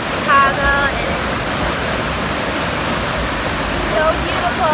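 A crowded waterfall in Bali roars as a steady, loud wash of rushing water, with a few brief voices and whistle-like chirps faintly over the constant noise.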